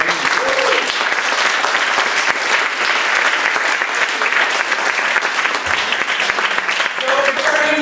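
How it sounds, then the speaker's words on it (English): A concert audience at a steel drum performance applauds loudly and steadily throughout, a dense, unbroken wash of many hands clapping at close range. "I think we owe them all a round of applause for learning."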